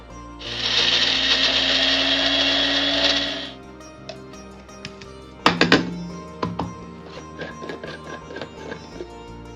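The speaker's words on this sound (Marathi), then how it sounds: "थोडंसं जिरं थोडंसं ओवा हे आपण वाटून घेऊया" A kitchen mixer grinder whirs loudly as it grinds cumin and carom seeds with chilies, a steady high buzzing for about three seconds before cutting off, followed by a few sharp clunks and clatters of the jar being handled.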